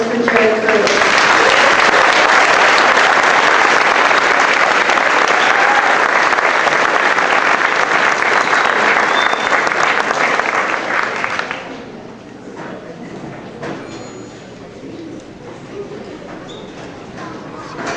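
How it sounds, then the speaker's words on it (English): An audience at a Class of 2008 graduation ceremony applauds loudly and steadily for about eleven seconds, then the clapping fades to a few scattered claps and room murmur. "Please give a round of applause for Mrs. Michelle Bugney, Mrs. Terry Albrum"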